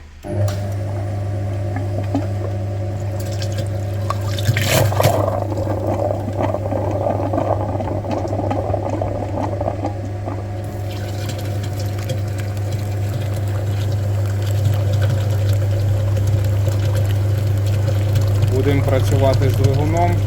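A coolant flushing machine hums and pumps liquid through a Geely car's cooling system with a steady drone and watery churning, and a voice talks briefly over it.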